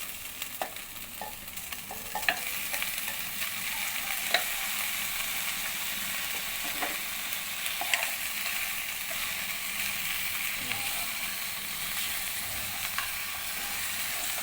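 Chicken seasoned with curry powder fries in a pan, giving a steady close sizzle with scattered stirring clicks and scrapes throughout, and no voices.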